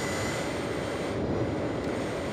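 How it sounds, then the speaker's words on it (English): Steady, loud jet engine roar from a CitationJet 525 business jet in the TorqueSim flight simulator game, a continuous broadband rush with a faint high whine, heard alone without talk. "do tell if, you know, the plane is a bit too loud still"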